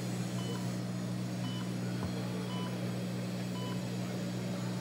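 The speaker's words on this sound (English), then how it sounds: "5 beeps and we're ready to go" A Solea dental laser's steady electronic tone repeats five times at even intervals, faint over a constant low machine hum, with no one speaking.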